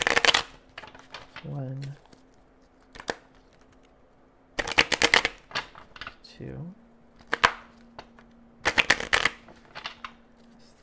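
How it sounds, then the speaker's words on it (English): Tarot cards being shuffled by hand in several distinct bursts of crisp riffling and slapping, close and fairly loud, with a person talking quietly between the shuffles and counting aloud. "I'm going to give 3 shuffles here."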